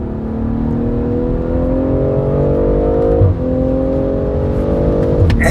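A BMW M340i xDrive with an 8-speed ZF gearbox lapping Kyalami circuit, its engine droning loud and steady as revs climb, with a quick gearshift dip partway through and another near the end.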